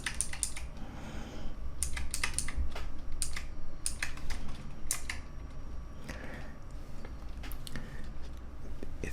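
Fast typing on an optical mechanical keyboard with PBT keycaps and a metal backplate: dense, close clacking keystrokes in quick irregular runs with brief pauses, heard alone.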